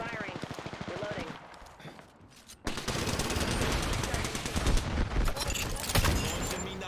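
Automatic weapons fire in Apex Legends rattles in rapid bursts during a ring-closing firefight, with a brief lull before sustained loud shooting resumes and continues to the end.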